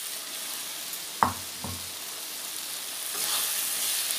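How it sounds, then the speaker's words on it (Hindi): Fried flattened rice drops into a fish head curry cooking in a pan, giving a couple of quick knocks over a soft sizzle, and then a louder frying hiss rises near the end. "इसमें मैं दे रही हूँ फ्राई हुआ चूड़ा"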